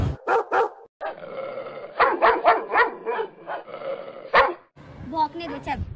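A dog barks repeatedly, sharp close yaps and barks, some growly, alternating with people talking in a domestic comedy skit; the barks come in clusters of quick rhythmic bursts.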